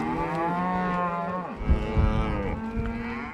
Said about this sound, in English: This is not a make-believe cattle drive.